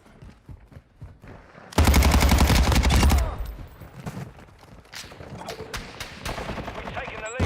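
A sustained burst of rapid automatic gunfire in a shooter video game, loud and dense for over a second, followed by scattered single shots and footsteps amid game sounds.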